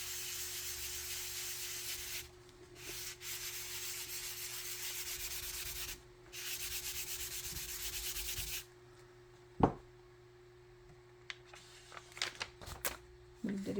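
Paper is rubbed by hand over a wet watercolor landscape painting, a close, scratchy hissing that comes in sustained strokes with brief gaps, then gives way to light handling sounds.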